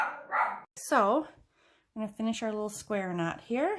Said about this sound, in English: Excuse my dog there for a second. She's barking.